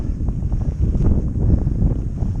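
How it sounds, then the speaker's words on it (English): Steady low rumbling wind buffets the microphone throughout on a cold fell-side ride from Florence Mine towards Cold Fell, a continuous roar with no speech over it. "It's windy, it's cold."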